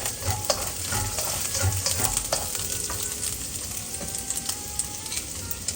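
Garlic sizzles in a tablespoon or two of hot vegetable oil in a pan for a chicken broccoli stir fry, a close, steady crackle broken by the scrape and tap of a stirring utensil.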